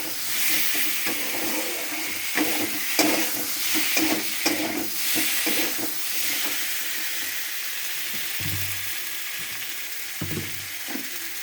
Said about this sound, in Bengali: বন্ধুরা দেখো আমি এখানে জল দিয়ে দিচ্ছি, অল্প অল্প জল দিয়ে নাড়তে থাকবো।